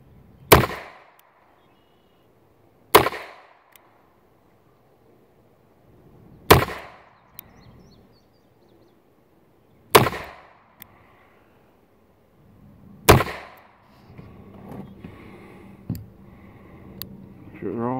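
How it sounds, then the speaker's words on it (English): Five double-action shots from an Iver Johnson Cadet .32 Long revolver, loud sharp cracks spaced about three seconds apart, with low handling noise and faint rustle after the last shot. "let's try 5 rounds on double action, aimed fire"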